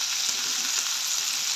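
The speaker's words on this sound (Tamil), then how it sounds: "இப்போ இந்த வெங்காயமும் வதங்குது" Potatoes and onions sautéing in a pan, a steady, close, dense sizzle that holds at an even level throughout.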